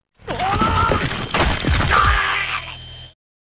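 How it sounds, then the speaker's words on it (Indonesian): A loud, sudden explosion-like burst of crackling and rumbling debris from an exploding kaiju organ in the anime Kaiju No. 8, lasting about three seconds, close and harsh, then cutting to silence. "organ kaiju itu meledak"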